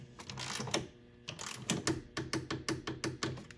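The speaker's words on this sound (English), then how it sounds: "25 foot-pounds is set here on the torque wrench. Let's go and get that tight." A hand torque wrench set to 25 foot-pounds tightens a bolt with a close, steady run of sharp ratcheting clicks. A brief pause breaks the run before the clicks speed up again.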